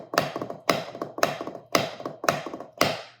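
Drum practice on a pad or kit, sticks playing triplet patterns with diddles on the middle partial: six evenly spaced accented groups of quick taps, dry and close, with no voices.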